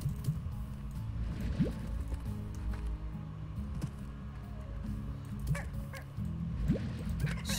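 Chickens in the video game Slime Rancher cluck and squawk in a few short, faint calls over a steady low background rumble and game ambience, with no clear speech.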